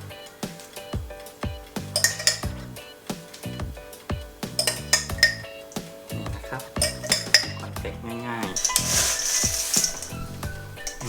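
Caramel-coated cornflakes with raisins get tipped into an oven dish, giving a close series of clinks, scrapes and knocks of utensil on dish, irregular and bright, with a denser clattering burst near the end.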